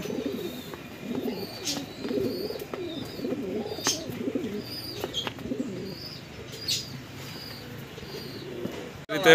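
Pigeons in a cardboard shipping carton readied for dispatch, a male pair with one female, coo softly and repeatedly, with scattered chirps and brief wing flaps, close by and steady throughout.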